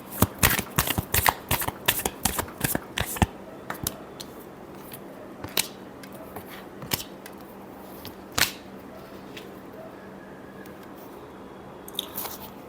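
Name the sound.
shuffling tarot cards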